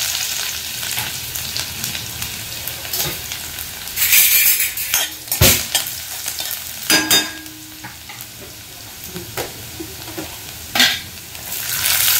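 Cumin, chili and garlic sizzle and crackle in hot oil, a steady fry punctuated by several sharp pops and clinks of a spoon stirring the pan, close and fairly loud with no talking.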